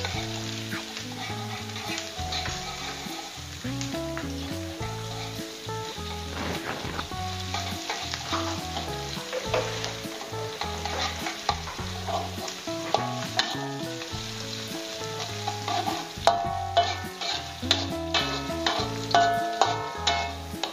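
Shallots, garlic and bird's eye chili sautéing in oil, a continuous crackling sizzle close up with frequent stirring scrapes throughout, growing a little busier toward the end.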